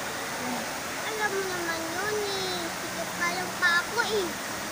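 Hinulugang Taktak Falls roars as a steady broadband rush of falling water, loud and constant, with people talking and calling out over it.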